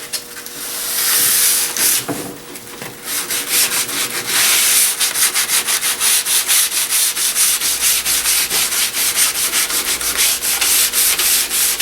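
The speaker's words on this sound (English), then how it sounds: "Now just sand them right out." Sandpaper rubbing across a walnut wood surface, a steady close rhythmic hiss of quick back-and-forth strokes that continues without a break.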